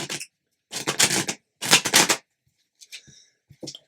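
Tarot cards are shuffled in three quick riffling bursts, close and crisp, followed by a few softer taps and slides of the deck.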